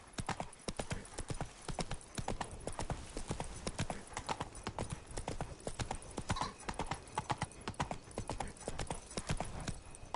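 Horse hooves trot at a fast, even rhythm from start to finish, loud and close, with a faint snort or whinny mixed in and no talking, in The Witcher 3.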